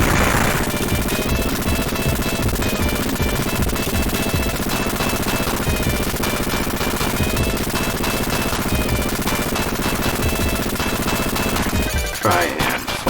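Dense, continuous gunfire and explosions from the Contra: Hard Corps video game, with rapid repeated shots layered over music for the whole stretch, fading at the end.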